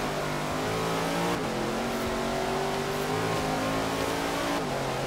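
A race car's engine revs hard and continuously through a snowy Blizzard Mountain race in Forza Horizon 3, its pitch climbing and dipping with gear changes and cornering, loud and close with no voices.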